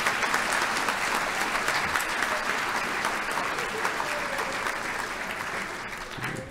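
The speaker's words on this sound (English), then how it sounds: "Let's give her a round of applause," A medical advisory board meeting audience gives Dr. Christina Charles a round of applause, dense sustained clapping from a sizable crowd that holds steady and tapers off toward the end.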